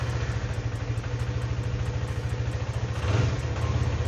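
A CFMoto 250NK Lite motorcycle engine running close by after being started with the handlebar starter button: a steady, rapid low thumping idle with a mechanical clatter, no talking.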